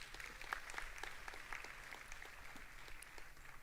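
Faint, distant applause from an audience at a university induction ceremony, a steady patter of scattered claps over a low background hum.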